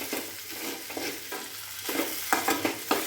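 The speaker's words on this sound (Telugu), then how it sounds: "ఇది ఒక 2 మినిట్స్ ఫ్రై చేసుకొని దించేసుకోండి." Okra and potato fry being stirred in a pan, with steady sizzling and scraping spatula strokes repeating every half second or so, close and moderately loud, no talking.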